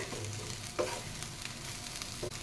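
Sweet potato cutlet vegetable masala being stirred in a pan over a low, steady sizzle, with a couple of brief spoon scrapes standing out near the start and end, close up and without talk.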